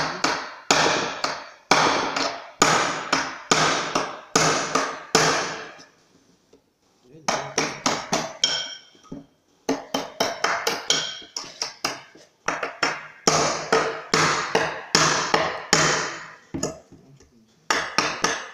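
Hammer blows driving in a board, sharp loud knocks in quick bursts of several strikes separated by short pauses, close by, with a few voices briefly between the bursts.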